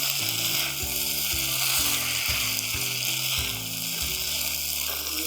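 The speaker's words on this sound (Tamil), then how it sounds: "கொத்தமல்லி சேர்த்து கிளறி விட்டுக்கலாம் சாதத்தை." Avakkai puliyodhara rice with coriander stirred in a pan, a continuous bright hiss and rustle of grains, close and fairly loud, with a repeating stepped low tone running underneath.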